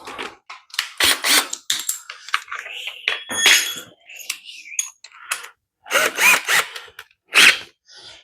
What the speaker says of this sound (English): Now, I can take my drill.